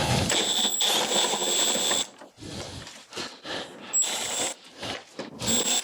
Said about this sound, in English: So now I'm going to remove the bolts over on this top cover here.